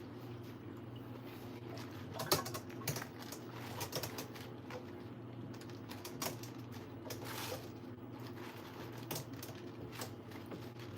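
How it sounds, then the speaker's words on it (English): A knife chops through napa cabbage on a cutting board, giving a string of soft, irregular taps and crisp cuts at close range, fairly quiet over a steady low background hum, with no talking. "I'll go ahead and cut them in a little bit."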